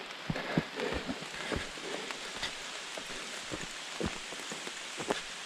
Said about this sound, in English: Raining again.